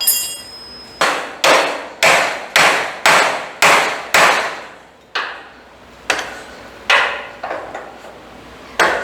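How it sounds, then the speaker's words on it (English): Heavy hammer blows strike a metal trailer axle in a steady rhythm, about a dozen sharp ringing hits with brief pauses, close and loud, no voices. "Let me get a hammer."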